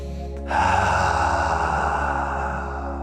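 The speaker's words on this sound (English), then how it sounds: "Gentle, big, deep breath in, ha sound out." A single long, deep breath during an energy activation exercise rises abruptly and holds as a loud, airy rush over a soft musical drone, with no speech.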